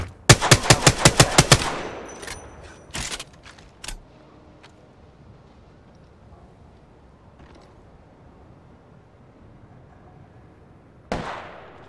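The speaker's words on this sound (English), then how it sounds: "Opening fire on the enemy." A quick burst of about eight sharp gunshots in Apex Legends, then a few single shots, a long quiet stretch with faint background noise, and one last shot near the end.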